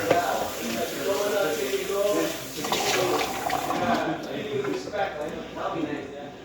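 Tap water runs continuously over drained canned tuna being rinsed in a kitchen sink, a steady splashing hiss heard under a person talking.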